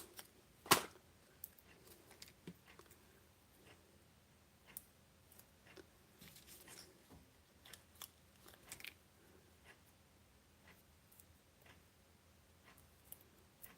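Scissors make repeated close snips in an irregular rhythm, a sharp cut near the start followed by many lighter clicks and snips, with no talking.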